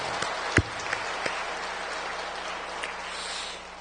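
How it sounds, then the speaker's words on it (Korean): A church congregation gives a round of applause, a steady broadband patter of many hands held at moderate volume from start to finish, with one sharper clap standing out near the beginning. "박수 한 번은 해도 좋을 것 같습니다"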